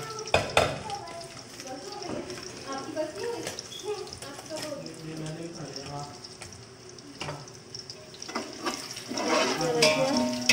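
Whole cumin seeds crackle and sizzle in hot oil for pulao, a steady close frying hiss with light scraping and clinks from a spoon throughout.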